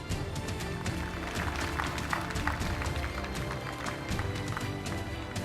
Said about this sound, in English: Ladies and gentlemen, let's put our hands together for a better round of applause.